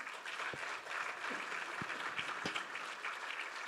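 Audience applause for a panel at a talk event, steady dense clapping from a seated crowd with a few sharper nearby claps, continuing throughout without speech.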